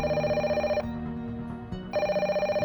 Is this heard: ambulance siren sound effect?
no